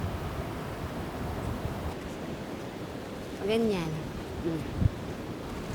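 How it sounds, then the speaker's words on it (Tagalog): Strong wind buffets an outdoor work site, a steady broadband roar with gusting swells, while a voice speaks briefly over it. "Dahil yung lakas ng hangin, no?"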